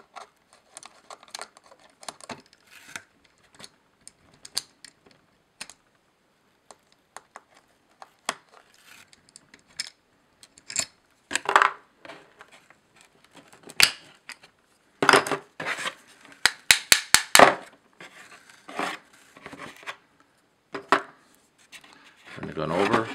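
Grips being taken off a Smith and Wesson Model 60 revolver: scattered small clicks, scrapes and rubbing of handled metal and wood, sparse at first and then denser and louder in the final stretch.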